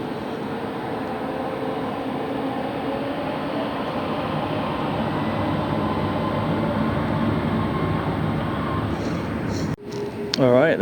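An airliner lands at LAX, heard as a steady, loud jet roar that holds for about ten seconds before cutting off abruptly into a few brief, fainter sounds.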